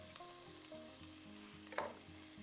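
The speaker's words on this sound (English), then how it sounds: "we're going to take our onion and add it to the oil and butter mixture that we have going here" Chopped onion sautés in a mix of oil and butter over medium heat, a steady quiet frying sizzle with one sharp clink of a utensil against the pan, accompanied by a low tonal hum in the background.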